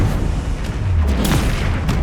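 Confringo blasting spell from Hogwarts Legacy going off as a deep, rumbling low boom that rolls continuously for two seconds, with a few brighter crackling bursts layered over the top.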